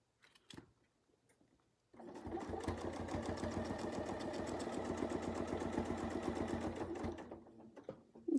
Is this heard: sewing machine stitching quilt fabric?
yes